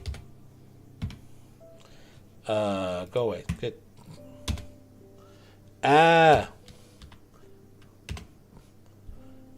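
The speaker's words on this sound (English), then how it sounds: "I have my keyboard sitting in front of me, and I can just hit the slash on it." Typing on a computer keyboard during a game chat session, scattered light clicks close by under people talking, with two louder bursts of other sound breaking in.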